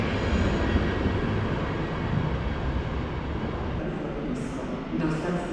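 An EN57 electric multiple unit train rolls past at Kraków Główny station, a steady broadband rumble and rush holding at moderate level throughout, with a faint higher tone creeping in toward the end.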